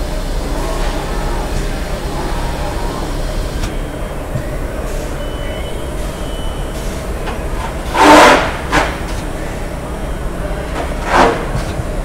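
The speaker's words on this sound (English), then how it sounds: "we're going to do a nozzle test print" A digital squeegee printer runs a nozzle test print: a steady, close mechanical drone throughout, with two short louder whooshing bursts of carriage movement near the end.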